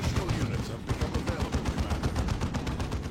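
Rapid gunfire and explosive shots in a strategy video game battle, dense repeated bursts throughout, loud and continuous, with a commentator's voice talking underneath.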